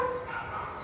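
A dog at an adoption event gives short yips and whimpering barks up close, with other dogs and an outdoor murmur in the background.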